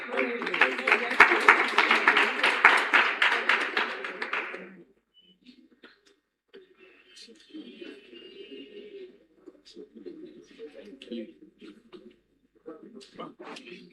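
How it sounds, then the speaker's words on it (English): Audience applause at a live interview event, a dense burst of clapping for about five seconds that stops abruptly, followed by quieter murmuring and talk. "Please, a round of applause."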